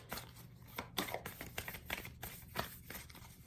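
Tarot cards being shuffled by hand, a quiet run of soft riffling and flicking bursts in an irregular rhythm, close and fairly faint with no talk.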